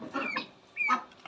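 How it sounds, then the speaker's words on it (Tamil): A free-range country rooster and broiler chickens on a home garden farm give a few short, near clucks and calls in brief bursts separated by a quiet gap. "அந்த நாட்டு சேவல் அந்த ஒன்று சேவல் இருக்குது பாரு"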